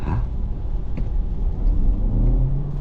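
A 2023 Audi Q3 Sportback PHEV drives hard through corners, its engine a steady close rumble and whir that swells slightly as it accelerates, with no talking.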